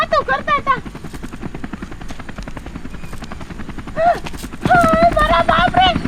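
A helicopter arrives with a steady, rapid rotor chop that runs under the whole scene while excited voices talk and shout over it and grow louder toward the end.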